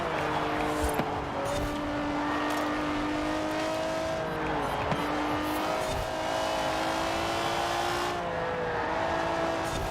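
BMW 850CSI racing through corners in Forza Horizon 4, a loud continuous engine note rising and falling through shifts with tire squeal, with someone talking faintly beneath it.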